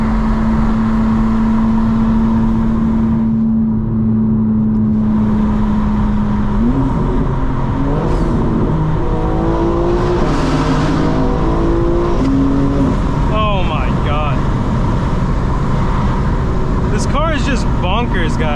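A 2025 BMW M4 Competition xDrive on a night drive: a steady engine drone climbs in pitch as the revs rise, loud and close, with rougher bursts and snarls toward the end.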